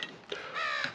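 A crow caws outdoors in the background while wiring work is underway, giving a few rough, harsh calls in quick succession at moderate distance, with no speech over them.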